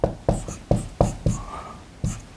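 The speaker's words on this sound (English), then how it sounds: "Let's write that down." Marker strokes on a whiteboard during a dental practice service talk, six short scratchy squeaks in an uneven rhythm, close and fairly loud with no talking.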